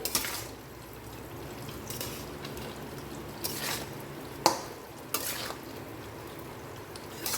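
Bottle gourd stirred and fried with prawns in a pan: a soft, watery sizzle under several sharp scrapes and clanks of a spatula against the pan, with no voices.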